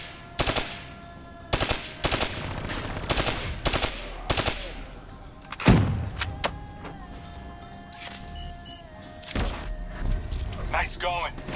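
Automated turret machine gun fire in Call of Duty: Black Ops 3, loud repeated bursts of rapid shots in short clusters, followed by mechanical whirring and game effects, with talk over it.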